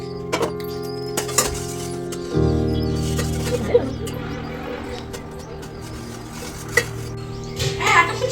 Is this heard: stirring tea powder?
yes